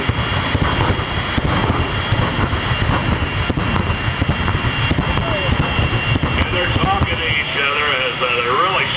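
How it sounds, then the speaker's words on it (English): A jet-powered funny car roars at a nighttime drag race at Orlando Speed World Dragway, a loud continuous jet-engine blast with a whining high tone that holds for the whole span, with voices faintly underneath. "Final jet funny car battle of the night."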